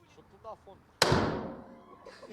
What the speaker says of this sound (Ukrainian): Гучність пострілів шокує, та ще більше ефект, коли чуєш їх всередині в унікальних тунелях.